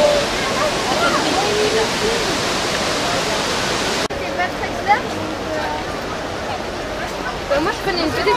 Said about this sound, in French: La cascade est artificielle.